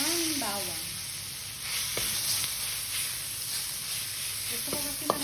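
Garlic sizzles in a pan for pork adobo as a soft, steady frying hiss, fairly faint, with a few brief voice sounds near the start and end.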